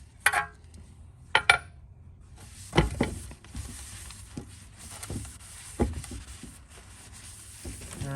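Metal transmission pan from a 6L80 transmission in a 2014-2019 Chevy Silverado being handled and wiped out with a rag: a few sharp metallic clinks and knocks, then softer scattered scrapes and taps, close and moderately quiet, no talking.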